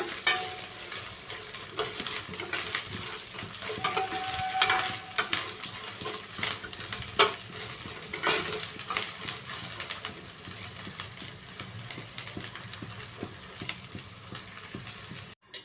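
Coriander seeds and cumin dry roasting in a pan, a steady close rustle of stirring and faint crackle that runs without pause and has no talk over it.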